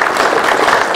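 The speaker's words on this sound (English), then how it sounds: "Is there a big round of applause for Peter?" A quick, loud burst of audience applause at a VE Day 75th anniversary event, lasting only about a second of steady clapping.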